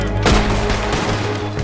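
Gunfire in the video game Red Dead Redemption 2 during a town shootout, a dense loud burst of shots with a booming, echoing tail, no talk over it.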